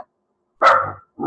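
A dog gives one loud, close bark, with a clipped start of another bark right after and quiet in between.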